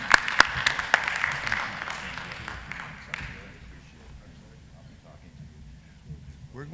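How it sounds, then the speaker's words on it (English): A conference audience at a stem cell meeting applauds the session speakers. The clapping is fairly close for about three seconds, then fades out beneath a murmur of voices. "Let's please give them a round of applause."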